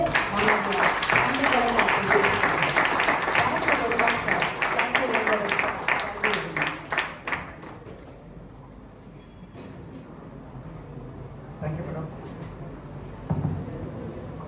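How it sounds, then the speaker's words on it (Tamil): Audience applause for a speaker at a college awareness event, loud sustained clapping from a hall crowd that fades out after several seconds into quieter room noise with a few stray sounds. "சாருக்கு நாம் ஒரு நல்ல கைத்தட்டலை கொடுத்து"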